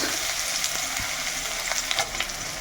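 Chopped onion goes into hot oil with whole spices (cardamom, cloves, cinnamon, dried red chillies, bay leaf) and fries with a loud, steady sizzle, broken by a few soft stirring scrapes, with no talking.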